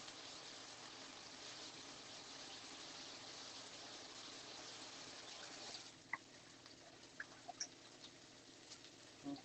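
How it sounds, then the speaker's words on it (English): Lentils rinsed under running water, a steady hiss of flowing water that stops partway, followed by a few faint drips and splashes. "I'm just rinsing the lentils through some water."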